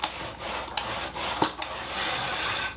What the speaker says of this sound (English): Drop this guy in there, and it'll slide up and down the track with minimal effort.